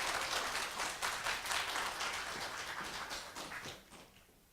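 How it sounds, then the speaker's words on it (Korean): Concert audience applauding at a morning Korean traditional music performance with tea and talk, a dense, fairly faint burst of many hands that tapers off toward the end. "큰 박수로 청해 듣겠습니다"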